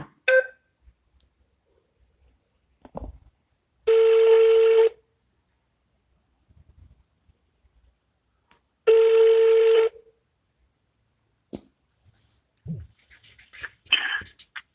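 Two bursts of touch-tone beeps from a telephone keypad being dialed, each about a second long, separated by quiet gaps with faint handling noises and clicks.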